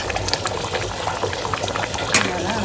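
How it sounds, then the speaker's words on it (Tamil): Nethili anchovy fish curry bubbling in a pot, a steady close simmering burble with small pops running throughout and one brighter splash near the end. "நல்லா பாருங்கள், இப்போ கொதிச்சு வருதுங்களா, லேசாக எண்ணெய் வருதுங்க"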